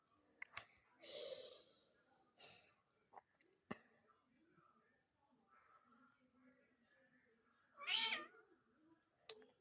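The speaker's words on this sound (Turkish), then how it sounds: "Anne dışarıdan kedi sesleri geliyor." A cat meows a few times in a Toca Boca video game, with a louder, sharper meow near the end, among quiet rustles and soft sounds.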